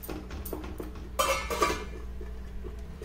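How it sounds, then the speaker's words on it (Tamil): A metal lid comes off a pan with a short clatter and clink, followed by softer scraping as Maakali kilangu pickle is stirred. The sounds are close and fairly quiet, with no talking. "இப்ப மூடிய மெல்லமா எடுத்து மேல தெரிக்காம இப்ப நாம இத அப்படியே நம்ம கலந்து விடலாம்"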